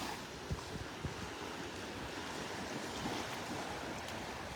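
Small ocean waves wash onto a Gulf beach at Delnor-Wiggins on a morning walk, a steady soft broadband wash with faint irregular splashes, mixed with some wind noise and no talk.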